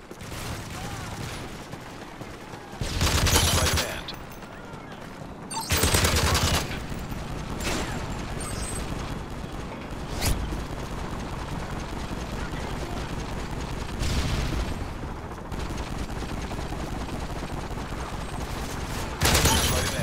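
Automatic gunfire from a friendly Osprey gunner in a first-person shooter game rattles out in repeated loud bursts over a constant background of battle noise, with game voice lines in places.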